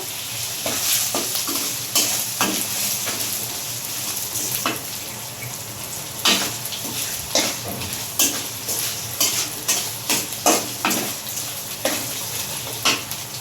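Spice paste with slit green chillies frying in a pan for muri ghonto, a steady sizzle under repeated sharp scraping strokes of a spoon stirring the masala, close and fairly loud, with no talking.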